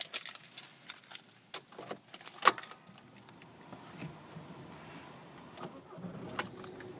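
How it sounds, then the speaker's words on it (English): Volkswagen Jetta SE TDI diesel with about 71,672 miles: keys and cabin clicks, a sharp crank and start, then a low, steady idle rumble settling in, fairly close with no talking. "And if we just get the car started up."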